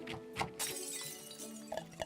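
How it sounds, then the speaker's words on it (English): A brief shatter of breaking glass bursts out, then fades into a light tinkling spray of shards, quiet, over soft game background sound during a cooking scene in Trails of Cold Steel. "Just broke a glass."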